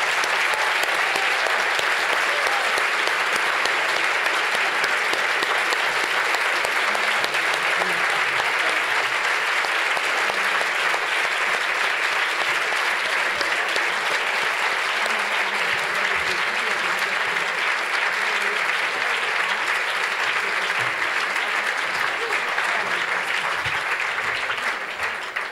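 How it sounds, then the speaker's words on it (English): A large audience at an occupational therapy memorial lecture gives loud, sustained applause that holds steady throughout to honor esteemed colleagues. "a round of applause for our esteemed colleagues"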